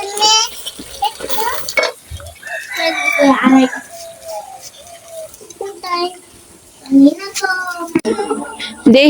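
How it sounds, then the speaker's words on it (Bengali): A village hen squawks and clucks loudly in repeated agitated bursts after laying an egg, close by, while people talk over and between the calls. "মুরগি এমন চিল্লাচিল্লি করতেছে কি জন্য"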